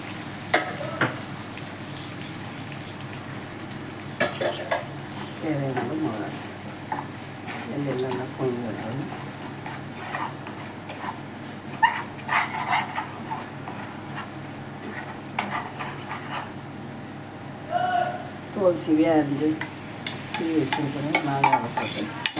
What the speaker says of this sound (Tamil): எண்ணெயில் இந்த மிளகாத்தூள் போட்டு கூடவே வறுத்து வெட்டி வச்சுருக்க இந்த உப்பையும் போட்டு நல்லா மிக்ஸ் பண்ணி வைக்கணும்